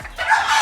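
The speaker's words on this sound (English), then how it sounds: "So this is the second type of Bantam chicken that I have" A Cochin Bantam hen clucks close by, a short, bright, slightly drawn-out call that rises after a brief soft onset and holds steady, with no one speaking.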